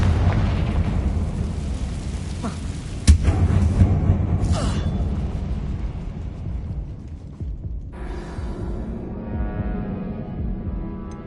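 In the video game Hogwarts Legacy, a Confringo blasting spell fires with one sharp explosive crack. A rumbling boom and crackling debris follow over a constant low game ambience, with no talk.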